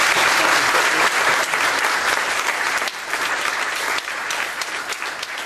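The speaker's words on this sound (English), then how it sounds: "let's give a round of applause" A large audience at the close of a question-and-answer session breaks into loud, thick applause that stays steady and continuous for the whole stretch, with no voices cutting through.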